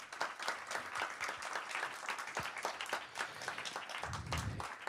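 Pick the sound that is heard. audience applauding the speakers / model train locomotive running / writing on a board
audience applauding the speakers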